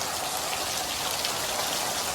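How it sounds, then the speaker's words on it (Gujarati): Heavy monsoon rain falls in a village, a dense, even hiss of drops striking surfaces, steady and unbroken at moderate loudness, with no voices. "અમારા ગામમાં એટલો વરસાદ પડી ગયો"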